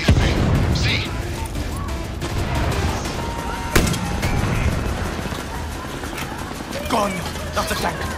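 Tank firing in Far Cry 6 during a capital city battle, heavy booms and a sharp blast near the middle among scattered gunfire and explosions, with voices speaking over the chaotic combat din.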